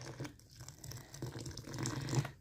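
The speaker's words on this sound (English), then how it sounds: "More water." Water pours and splashes close by in uneven bursts into a vinegar dye bath for dyeing fibre, with a faint crinkly rustle mixed in; quiet, no talking.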